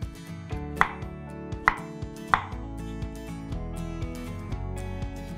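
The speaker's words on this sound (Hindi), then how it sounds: "ऊपर वाले जो है थोड़े पतले काट रहा हूं" A knife chopping vegetables on a cutting board, slicing the upper pieces thinner, for crispy Shanghai chilli chicken: three sharp, loud knocks, then a quicker run of lighter cuts over a background hum, no voices.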